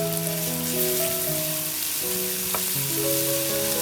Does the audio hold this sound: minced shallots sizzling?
yes